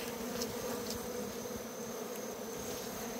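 Honey bees hum in a dense, continuous close buzz while honey is taken from the hive at night, the drone steady throughout with occasional louder passes near the ear.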